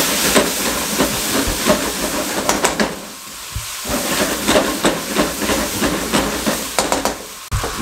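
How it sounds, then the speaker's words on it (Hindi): Spices with garam masala and lemon juice frying in a pan for Singapore rice noodles, a loud continuous hissing sizzle with intermittent bursts of scraping and stirring, close up and without voices. "अच्छे तरीके से इन मसालों को भून लें"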